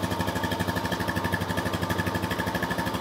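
A Honda Rancher 420 ATV engine idles up close, giving a steady, loud, rhythmic putter with a regular pulsing beat and no voices over it.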